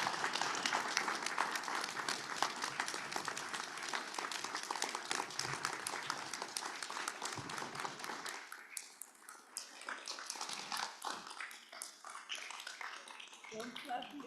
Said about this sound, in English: Don't clap yet.